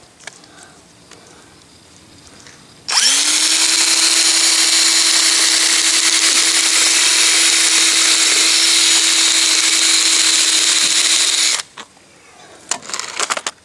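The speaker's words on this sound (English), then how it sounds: "Let's see how well the DeWalt shears cut wire." DeWalt power shears cutting garden-bed wire mesh, one loud continuous motor whine lasting about nine seconds at steady pitch, with quieter handling noise before and after.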